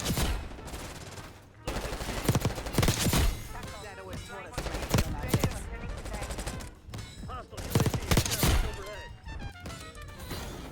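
Call of Duty video game gunfire: repeated bursts of automatic shots and sharp single cracks with thuds, dense and continuous, at moderate loudness.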